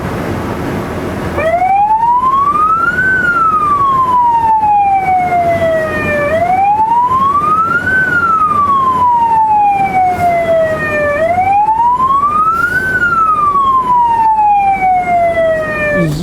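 A loud emergency siren wails up and down in slow repeating cycles, about three rises and falls, with traffic rumble underneath.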